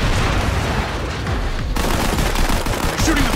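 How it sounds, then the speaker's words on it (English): Gunfire during an attack on a main entrance, dense overlapping shots and bursts filling the scene, loud and continuous, with faint voices mixed into the chaos. "They're shooting them!"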